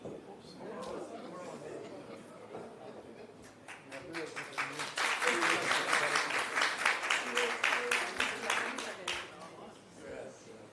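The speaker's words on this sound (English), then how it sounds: "that round of applause was" An audience at a national health research conference breaks into applause that builds from scattered claps over background chatter into a loud, sustained round of dense clapping, then tapers off.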